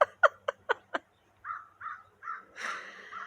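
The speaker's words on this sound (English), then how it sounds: "She's up there squawking." A bird perched up high, alone, gives five sharp, harsh crow-like squawks in quick succession, pauses, then makes three softer, rougher calls and one longer raspy cry, fairly close with no talking.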